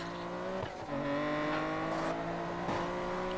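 In Need for Speed Payback, Chevrolet Camaros and other cars race together. Several engines roar at high revs with shifting pitch, and brief tire squeals and passing whooshes come through over a loud, steady engine drone.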